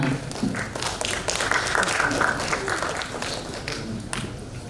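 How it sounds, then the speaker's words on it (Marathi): An audience at a felicitation ceremony breaking into applause, a fairly loud wash of many hands clapping that swells and then gradually eases off. "जोरदार टाळ्यांचा गजर देऊया"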